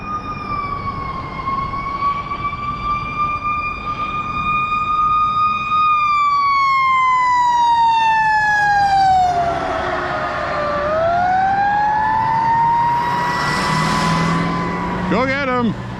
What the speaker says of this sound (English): Let's record the fire truck.